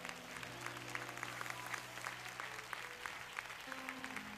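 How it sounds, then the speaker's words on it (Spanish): A church congregation applauds during a Spanish-language service, a steady, even wash of many hands clapping at moderate distance, with a sustained musical tone beneath it. "Den un aplauso al Señor."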